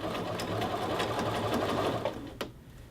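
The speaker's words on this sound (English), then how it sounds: "Notice as I'm sewing" A sewing machine runs steadily while stitching the collar band of a men's shirt, a close, continuous whirring hum that stops abruptly near the end.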